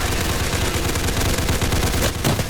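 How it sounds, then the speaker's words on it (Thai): Rapid automatic gunfire in the Roblox game Darkdriver comes as a dense, loud, continuous burst of shots that fills the whole stretch without a pause. "ยิงเข้าไปที่ปากกันเลยทุกคน"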